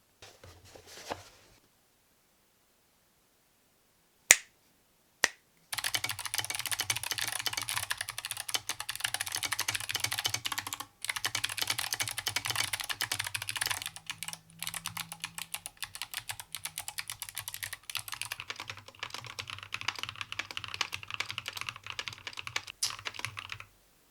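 Rapid, continuous typing on a mechanical keyboard fitted with Novelkeys Box Jade clicky switches: thick, sharp clicks in a steady close-up patter that runs almost unbroken after a few isolated keystrokes at the start.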